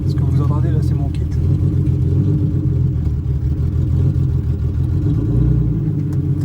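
A car engine fitted with a new reinforced clutch and lightened flywheel idles and revs in a steady low rumble, close and continuous, with someone talking over it.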